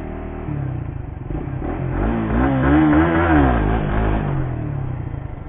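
Suzuki GSX-R150 motorcycle engine, a 2020 model, revving high with the clutch held in, rising to a loud sustained peak and then easing back down, heard alone without talk.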